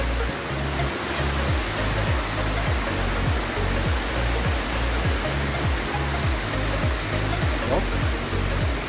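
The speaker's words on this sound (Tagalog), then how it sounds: "Lagaslas ng tubig." Water rushes steadily and loudly down Nalalata Falls in Bula, Camarines Sur, a dense unbroken roar filling the whole scene at close range with no pauses.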